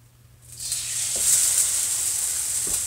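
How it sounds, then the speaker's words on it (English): Chocolate French toast hits a preheated skillet, and a bright hissing sizzle rises quickly and then holds steady and fairly loud, with a couple of faint clicks underneath. "You hear the sizzle?"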